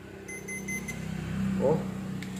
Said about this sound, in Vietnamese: mình đang ghim vô cái gì mà nó kêu tít tít tít gì?